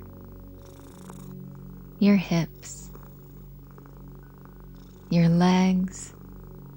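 A cat purrs in a low, steady rumble that runs continuously beneath a calm spoken voice.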